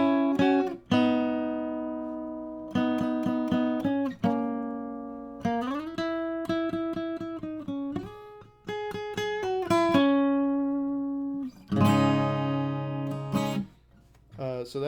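Guitar mimicking the organ part of a song: plucked chord stabs and short melodic phrases in an uneven rhythm, clean and close, with brief pauses between phrases and no voices.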